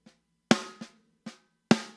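Compressed snare drum with a slow attack setting, struck five times in an uneven pattern, each hit loud and close with a sharp snappy transient and a short decaying ring, alone without talk.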